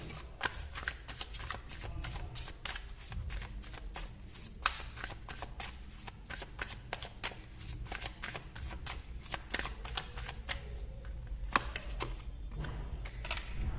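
Tarot cards from a second deck shuffled in a steady run of quick riffling, papery snaps for the whole stretch, close and fairly loud with no talking.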